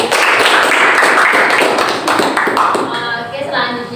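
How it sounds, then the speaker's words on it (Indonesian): Students in a classroom group guidance session clap their hands together, a dense burst of applause that gradually thins and fades, with talk in the room beneath it toward the end. "jadi kita beri tepuk tangan untuk kalian"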